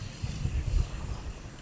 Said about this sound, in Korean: 바람이 너무 불어서.